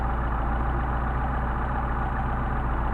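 An engine with Solex carburetors settles into a steady idle as the mixture is tuned, a low, even, continuous rumble close by with no voices.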